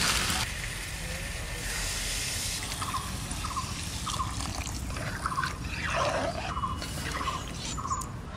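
Water poured into a hot pan of village-style jackfruit curry, giving a steady hiss and bubbling sizzle throughout, with faint intermittent chirps over it.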